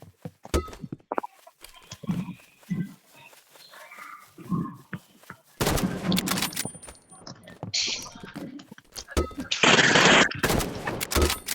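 Gunfire in the Roblox game Rivals: bursts of synthetic shots and impacts, loud and close, mixed with other game effects and spoken voices, with heavy clusters toward the end.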